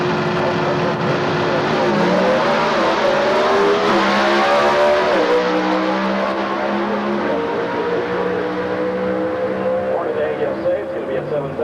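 A drag race car with a 57 cubic inch Chevrolet small block roars at a Gainesville NHRA event, one loud sustained engine note rising and shifting pitch over several seconds, heard under an announcer's commentary.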